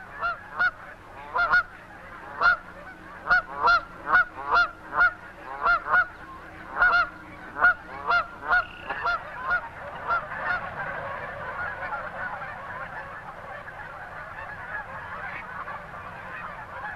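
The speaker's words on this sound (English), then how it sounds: "These are cacklers. A pair of tricky ones in the bright sunlight." Cackling geese honk repeatedly in the open, a rapid series of high, sharp calls that thins out and fades after about ten seconds into quiet outdoor ambience.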